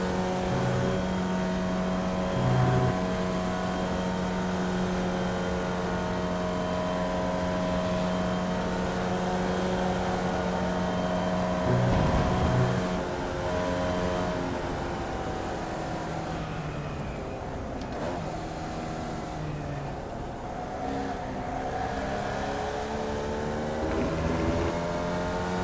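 A Formula Vee race car's engine drones loudly on track, rising and falling in pitch as it works through gear shifts at steady intervals, with no talking.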